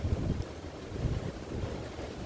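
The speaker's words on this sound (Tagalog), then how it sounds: "Sobrang lakas ng hangin." Strong typhoon wind under a Signal Number 10 warning in Hong Kong, a low, steady roar of gusts buffeting the microphone with no voices.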